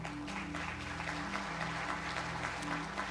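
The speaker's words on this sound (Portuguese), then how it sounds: "Você pode dar um aplauso a Ele?" A church congregation applauds together, a steady, even patter of many hands clapping at moderate distance with no break.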